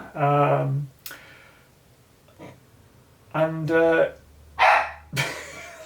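A dog barks at its reflection in a bedroom mirror, giving several loud, close barks in separate bursts with pauses between them.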